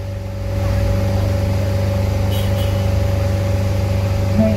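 A busy bus terminal with a full MPM Mandalika bus idling nearby, its engine giving a steady low hum and rumble that stays even and fairly loud throughout, with no talk over it.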